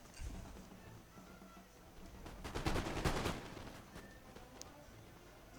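Musket volley fire from Austrian line infantry in Napoleon: Total War, a dense burst of overlapping shots around the middle of the clip, rising out of a low battlefield din and then fading back into scattered distant firing.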